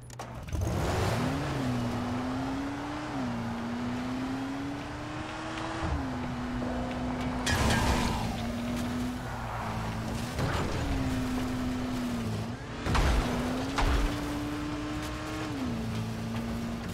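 Car driven in the video game Dying Light The Following, a steady engine drone rising and falling as it shifts and accelerates, with loud bumps and crashes scattered throughout.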